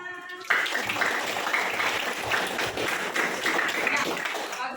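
A class of children claps in a classroom, the applause bursting in about half a second in and staying dense and steady for roughly four seconds.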